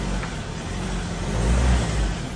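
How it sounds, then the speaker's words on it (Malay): A car rolls into a parking area among nipah palms in Perlis, giving a steady, close engine and road rumble that swells slightly before settling. "bawa masuk kereta"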